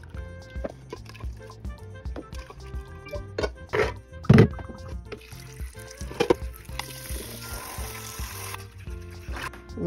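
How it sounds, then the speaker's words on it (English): Soaked chickpeas are drained and rinsed with water, giving irregular splashes, drips and trickles with a few louder pouring bursts and a steady running-water wash toward the end, fairly close and alone. "We're going to drain them. And rinse them several times."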